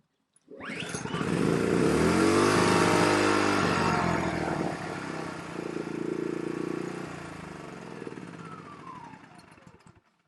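A NEXPOW YH2200i portable inverter generator starts with a pull and runs loudly nearby, revving high at first, then settling to a steady, slightly lower drone.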